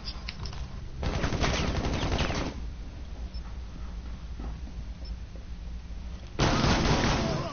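Gunfire in Rainbow Six Siege, dense crackling bursts of shots in two loud stretches separated by a quieter gap, close and harsh.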